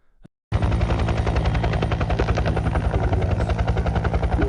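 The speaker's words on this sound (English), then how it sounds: "this is a medical helicopter." Medical helicopter with rotor blades chopping in a rapid, loud, steady beat and a heavy low engine drone, starting abruptly after a brief silence and continuing without talk.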